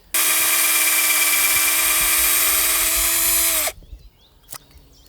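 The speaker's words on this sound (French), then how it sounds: "On perce légèrement en biais pour que la sève peut couler." A cordless drill bores a slightly angled hole into a birch trunk to tap its sap, whining loudly and steadily for several seconds at close range, then stopping abruptly, followed by a brief faint knock.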